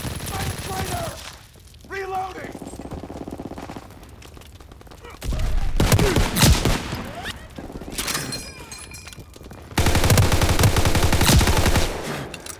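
M1 Garand rifle fire in the World War II shooter Call of Duty WWII, during team deathmatch: loud bursts of gunfire come in two heavy stretches amid other battlefield shots and clatter.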